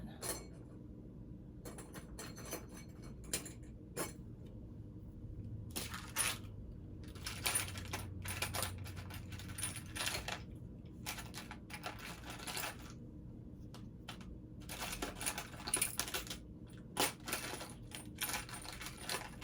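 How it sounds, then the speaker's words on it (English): A zipper foot is fitted onto a sewing machine, producing a run of small close metallic clicks, taps and clatter at irregular intervals over a faint hum. No one speaks. "And I need to put my zipper foot on."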